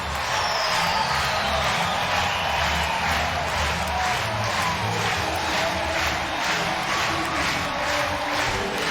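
Loud, sustained roar of a college baseball crowd cheering after an Ole Miss home run against Clemson at an NCAA regional game, a dense wall of noise holding steady throughout.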